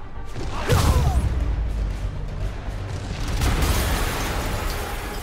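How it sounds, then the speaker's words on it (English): Explosion in Marvel's Spider-Man Remastered, a deep booming blast near the start that rolls into a lingering rumble and debris noise. "an explosion just— I saw it."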